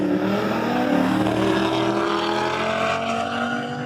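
A 1000 hp Audi RS3 in a roll race screams under hard acceleration, its engine note climbing steadily through the gear, loud and sustained over a rough rumble of the car speeding past.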